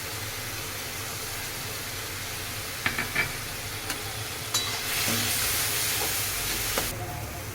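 A paste of coconut, mustard and chili tipped into a hot pan and stirred: steady frying hiss with a few sharp clinks and scrapes of a spoon, then a louder surge of sizzle as the paste hits the oil.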